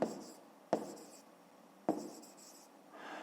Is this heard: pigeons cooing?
no